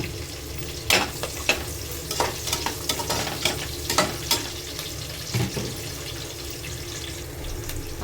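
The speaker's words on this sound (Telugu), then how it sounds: "ఆనియన్ ఫ్రై అవుతుంది." Chopped onion and two green chillies fry in hot oil in a pan for vegetable rice, a steady sizzle broken by scrapes and knocks of a stirring spoon, close up with no talk.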